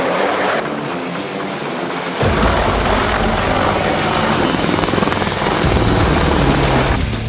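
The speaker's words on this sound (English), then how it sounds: "They'll be performing more than 10 maneuvers in the helicopter during their aerial display." An Apache helicopter in an aerial air show display roars loudly with a thick rotor and engine wash, swelling abruptly after a quieter start and staying loud and steady.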